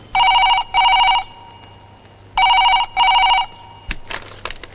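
A telephone rings in two double bursts, each pair of bright electronic trills repeating with a pause between, loud and close, followed by faint handling clatter near the end with no talk.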